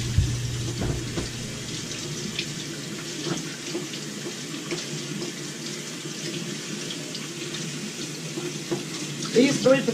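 Tap water runs steadily into a pot being filled to cover sweet potatoes for an old-fashioned pie, a constant splashing hiss that stays close and even, with a brief clatter near the end.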